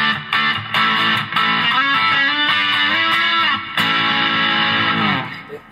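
An Aria ProII PE AE200 electric guitar is played through heavy distortion, with sustained, gritty chords and bending notes ringing loud and close, broken by short pauses before a final chord fades.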